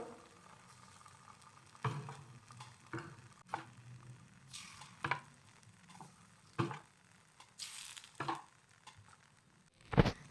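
Rice flour appe batter poured into a hot appe pan, giving a soft steady sizzle with faint scraping and a few sharp clinks of a spoon against the pan, all fairly quiet and close.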